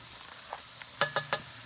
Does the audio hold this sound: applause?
no